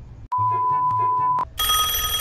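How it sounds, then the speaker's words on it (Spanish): A telephone rings with a steady electronic tone broken by brief clicks, then a brighter, buzzier ring takes over near the end. "ese teléfono sí suena"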